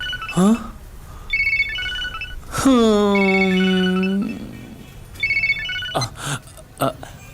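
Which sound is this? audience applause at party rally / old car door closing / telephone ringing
telephone ringing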